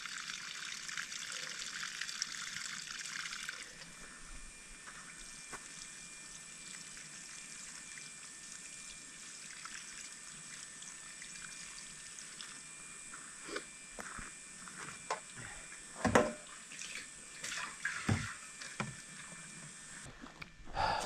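Water runs steadily from a hose while garden plants are watered, a constant hiss and trickle close by, with a few knocks and splashes toward the end.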